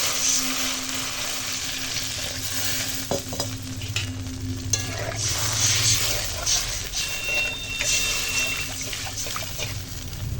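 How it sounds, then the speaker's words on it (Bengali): Water poured into a pan of fried spice paste for a Bengali fish curry, giving a steady hiss and sizzle with stirring scrapes and trickling, close and fairly quiet throughout. "এখন হয়ে গেছে মশলা কষানো আর দিয়ে দিলাম জল"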